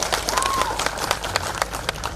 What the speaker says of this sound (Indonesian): beri tepuk tangan dong buat para aktivis di sini